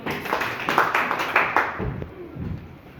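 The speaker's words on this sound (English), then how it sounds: "Clap for him." A classroom of students claps for a classmate who answered a question, a short burst of scattered hand claps lasting under two seconds, followed by quieter murmuring and a few taps.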